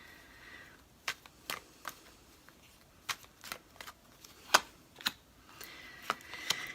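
Tarot cards are shuffled and drawn by hand in a series of short, crisp snaps and flicks, spaced irregularly with quiet rustling between them, close and fairly soft.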